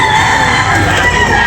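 Rooster crowing amid a busy early-morning chicken market, a loud sustained call over dense crowd noise.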